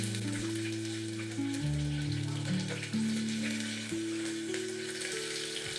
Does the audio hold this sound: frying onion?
yes